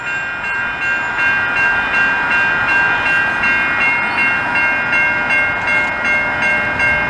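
A long CP freight train rolls through the Beaurepaire level crossing in Montreal with a loud, continuous rumble, while sustained ringing tones hold steady over it throughout.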